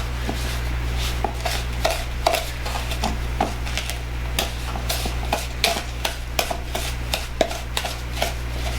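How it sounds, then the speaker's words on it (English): Cinnamon roll filling being mixed by hand into a thick paste in a bowl, heard as a steady series of close, sharp clicks and scrapes over a constant low hum. "I'm just going to mix this all together until it's almost like a paste"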